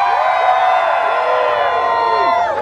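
A loud crowd cheers, shouts and whoops together at an outdoor Halloween haunt event, a dense sustained roar with high voices rising throughout.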